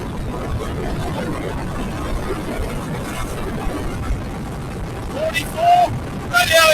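A 1980 Honda CT110 Trail motorcycle runs under steady engine and wind noise as the rider accelerates along a road, with a couple of brief higher whines near the end.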